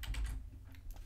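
Quick bursts of keystrokes on a computer keyboard while entering a formula in Excel, a close, brisk run of clicks lasting about a second with no talking.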